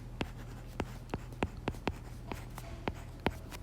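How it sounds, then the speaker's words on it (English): Chalk or marker strokes writing out a math formula in a quiet lecture setting, a series of short sharp scratches and taps in an irregular rhythm, close and fairly clear over a low steady hum. "let's write down our formula"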